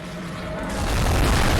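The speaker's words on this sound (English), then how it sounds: "Because you just fire a big cannonball at its head." Cannon firing a big cannonball in the video game Bloodborne, a dense, swelling boom that builds into a heavy sustained roar filling the whole moment.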